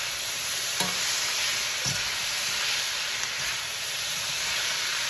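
Stir-fry vegetables including carrots being stirred in a hot pan, a loud, continuous sizzle and hiss with a few brief scrapes of the spatula.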